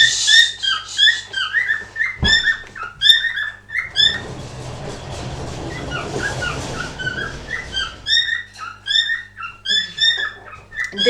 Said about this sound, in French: Désolée, c'est mon oiseau. Quand je parle, ça le fait parler.